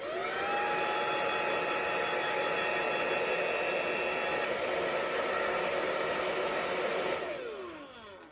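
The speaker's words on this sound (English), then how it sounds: "I'm just going to hit the inside and the outside a little bit with this dryer here" A hair dryer blows steadily and loudly at close range over a vintage Hot Wheels diecast car for about seven seconds, then the whine winds down as it switches off.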